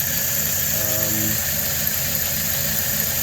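A cold LaSalle car engine runs steadily on a nearly closed choke, a close, even mid-pitched idle with a brief squealing tone early on.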